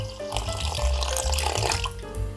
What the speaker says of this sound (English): Next, gradually add the milk and the water.